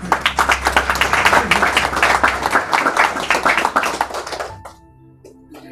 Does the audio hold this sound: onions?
no